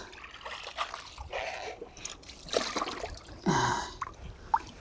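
Bare feet wade in a shallow puddle of pooled water on Gapado island, making soft, scattered splashes and trickles at close range with short pauses between steps.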